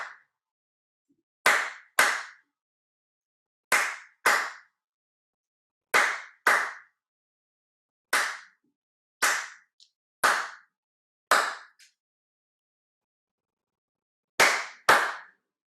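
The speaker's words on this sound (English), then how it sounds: "I would like you to just clap and see if you can do the clap pattern" An audience claps a repeated rhythm pattern in unison at a music and scripture conference session, sharp group claps arriving in pairs and short clusters with silent gaps between, crisp and fairly close.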